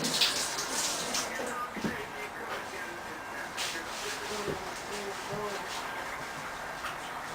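Tap water runs steadily while dishes and tools are washed up during homemade guacamole prep in a kitchen, a constant close hiss with faint clinks and knocks.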